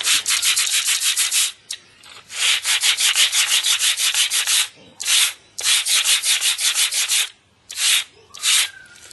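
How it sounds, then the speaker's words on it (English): Sandpaper rubbing back and forth along a small edge on an N scale model theatre building, a loud, close, rhythmic scratching in several long runs of quick strokes broken by short pauses. "just going to sand that off so you've got a nice flat surface here"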